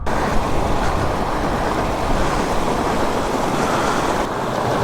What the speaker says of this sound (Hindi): ऊपर ग्लेशियर से बिल्कुल बढ़िया पानी आ रहा है, इधर पानी की बोतल भर लेता हूँ।